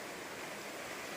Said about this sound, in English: It's a pretty little stream out there.